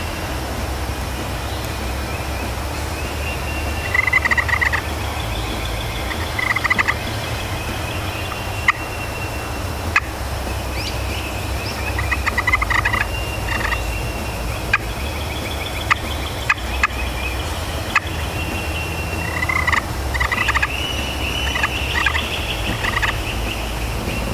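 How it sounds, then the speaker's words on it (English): A wild turkey gobbles repeatedly outdoors at a morning hunting setup, loud bursts recurring every few seconds over a steady low rumble of distant aircraft or traffic, with occasional sharp clicks. "He, the last 2 mornings that we've even been out here, he's been gobbling in the same spot."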